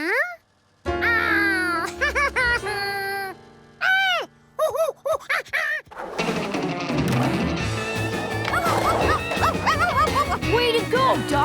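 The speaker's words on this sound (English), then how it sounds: "Way to go, doggy!" A cartoon dog barks and yips in a rapid series of short, loud bursts, followed by a busy stretch of cartoon music and sound effects.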